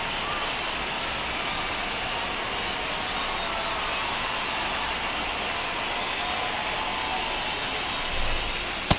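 Steady heavy rain hisses over a virtual baseball ballpark in MLB The Show, a dense even wash holding constant throughout with a brief thump near the end.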